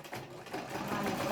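Sewing machine running steadily while stitching a seam on a box-pleated skirt, a short close whirring burst of rapid needle strokes.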